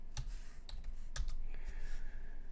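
A few quiet, separate keystrokes on a computer keyboard are typed at a desk, faint and close, with a light soft tapping rhythm.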